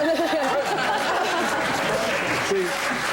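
Studio audience of a daytime talk show applauding during a panel discussion: steady, loud, broad clapping throughout, mixed with crowd murmur, light laughter and a voice speaking over it.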